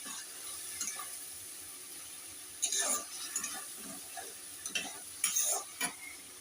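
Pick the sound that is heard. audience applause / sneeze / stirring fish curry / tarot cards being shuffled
stirring fish curry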